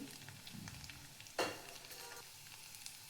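Garlic and cinnamon frying in hot oil in a kadhai, a faint continuous sizzle with one brief louder crackle partway through, no voices.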